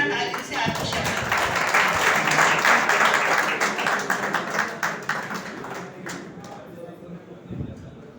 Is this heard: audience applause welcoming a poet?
yes